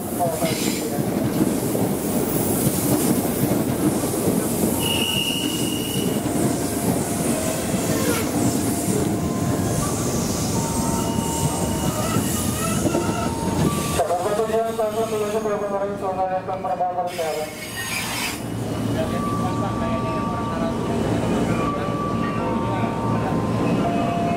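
A JR 205-series electric KRL commuter train rolls into track 5 at Bekasi station, its clattering wheels and rising metallic squeals of braking ringing out as it slows.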